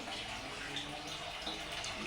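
Water runs at a fairly strong, steady rate down a sloping feed into a filling sump tank, giving a continuous close rushing splash with no talk over it.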